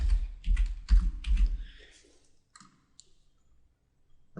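Rapid clicking and keyboard typing at a computer while creating a new Gmail label, a dense burst of keystrokes in the first second and a half, then a few sparse, quiet clicks, with no talking.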